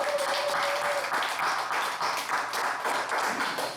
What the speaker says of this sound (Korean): 우리 박수 한번 크게 합시다